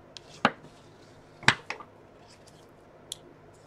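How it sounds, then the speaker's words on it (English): Paper card flaps are folded in for a handmade gate fold card, giving a few soft, crisp creasing snaps and light paper clicks scattered close by, with no talking. "So I'm gonna just go ahead and fold mine in, and then fold the last one back."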